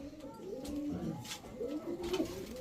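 A pair of Chuina Chuithal pigeons cooing close by, soft repeated throaty coos in quick succession against faint background noise.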